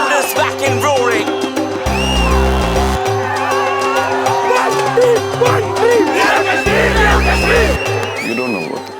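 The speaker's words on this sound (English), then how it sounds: "The crowd is back and roaring." Football stadium crowd roaring after an equalizer at a Real Kashmir match in India, a loud sustained roar mixed with chanting, music and excited voices throughout.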